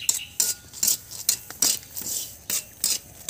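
Chickpeas roasting in a wok, stirred with a scraping tool, make repeated rasping, rattling strokes in an uneven rhythm, close and clear with no talk.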